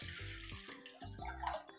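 Water poured into a cooking pot holding two cups of rice, four cups of hot water going in as a steady splashing gush that briefly pauses, fairly close and alone with no voices.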